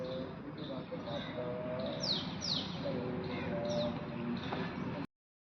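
Birds chirp and tweet in a park, with repeated short calls at moderate distance over a continuous outdoor background murmur, ending abruptly.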